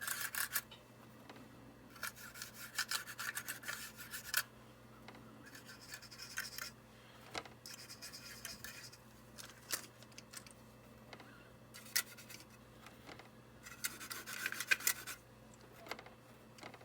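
Soft bristle brush scrubbing Pan Pastel weathering powder onto a model railroad locomotive, working along the narrow walkways in close, quiet bursts of dry rubbing strokes with brief pauses between.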